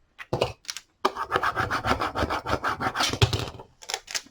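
Layered vinyl is burnished onto a surface in short rubbing and scraping strokes, close and crisp, repeated in a quick, uneven rhythm after a brief pause.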